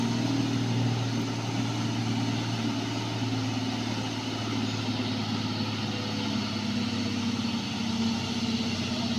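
Heavily loaded trucks pass at Kedabuhan with a continuous low engine drone, a steady rumbling hum that stays fairly close and even throughout without talk.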